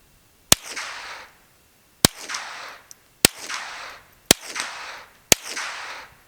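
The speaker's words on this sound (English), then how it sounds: "we're going to shoot 5 rounds of supers, 5 rounds of subs with the suppressor. See what it sounds like to your ears." Five suppressed .22 rounds from a SilencerCo Sparrow 22 suppressor, each a sharp crack followed by a brief hissing decay, evenly spaced about a second apart outdoors.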